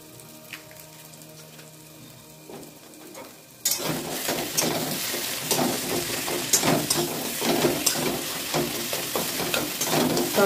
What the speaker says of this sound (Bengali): তড়কা মশলার সঙ্গে একটু কষিয়ে নেব